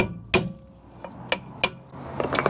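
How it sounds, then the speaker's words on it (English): Hammer striking a brake drum on the wheel hub of a Mk6 Ford Escort van, several sharp metallic taps spaced irregularly, close and fairly loud, followed by a cluster of lighter knocks. "let's get the hammer"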